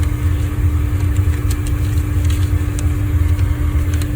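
Steady low roar of a Hayward Universal H Series 350k natural-gas pool heater burner running, constant and fairly loud, with a hum under it and faint clicks, no talking.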